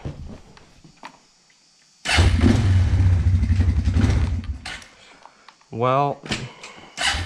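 A tractor rig hitched to a seed roller for planting a food plot cranks over and roars to life, a loud rumbling engine running close by for several seconds before settling, with a brief voice near the end.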